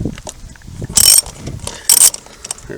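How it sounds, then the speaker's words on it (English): Two loud bursts of ratcheting from a hand ratchet loosening 17mm lug nuts on an ATV wheel, each a quick rapid clicking run about a second apart, close by with quiet handling noise between. "we're going to start off by loosening these lug nuts"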